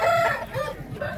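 A rooster at a Vijayawada poultry market gives a short, close crow with clucking and harmonic calls against a busy market background.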